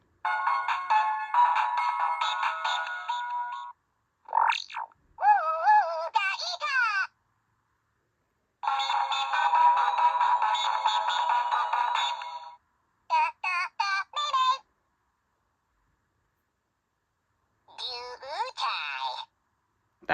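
Furby Furblets toys Star-Lee and Dah-Tee play long electronic sound bites: bright, warbling synthetic melodies and chirpy voice-like phrases in several bursts separated by silences, close and clear.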